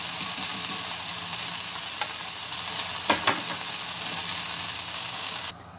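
Liver pieces frying in a pan, Alexandrian style, with a steady close sizzle, a few stirring scrapes in the middle, and the frying cutting off abruptly near the end.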